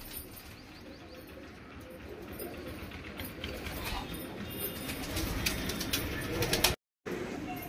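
A pair of Madrasi pigeons coos in a Kolkata loft, soft repeated calls mixed with other birds and a busy, noisy background; a brief dropout near the end.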